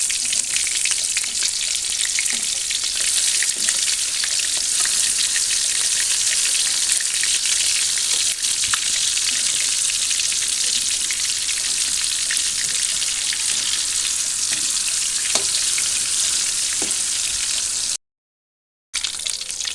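Used oil, previously used for frying chicken, sizzles and crackles steadily as tofu fries, a dense hiss with occasional pops, close and continuous, with a brief dropout near the end.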